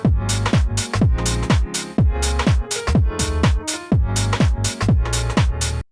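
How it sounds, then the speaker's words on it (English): A house track pumps along with a punchy kick drum, deep bass and piano chords in a steady four-on-the-floor rhythm, loud and close, with a couple of brief drops in the groove and no voices. "And then bringing back in the piano, the kick and the bass again"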